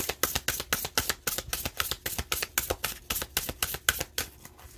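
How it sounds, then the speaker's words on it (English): Playing cards handled and shuffled close by, a fast run of crisp riffling flutters and slaps repeating steadily throughout, with no voices. "I think I'm gonna move these cards up a bit."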